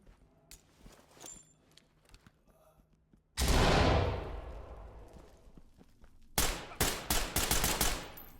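A grenade goes off in the tactical shooter Ready or Not with a sudden loud broadband blast that decays over a few seconds, followed by a rapid burst of close gunfire; quieter footsteps and movement come before it.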